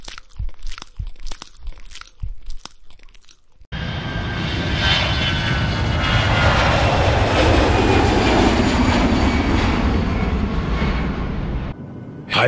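Airplane jet engine roar, loud and steady, rising abruptly after a few seconds of crinkling, crunching noise and holding a continuous broadband rumble until near the end.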